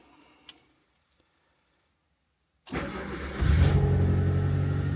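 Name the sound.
Proton Satria GTi engine starting after coil-on-plug conversion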